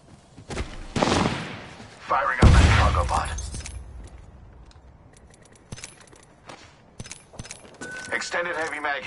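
Sharp bursts of gunfire ring out in an Apex Legends match, a few loud close shots and rattling volleys in clusters separated by quieter gaps, with voices heard over the action.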